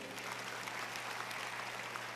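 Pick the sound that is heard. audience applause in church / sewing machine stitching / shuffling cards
audience applause in church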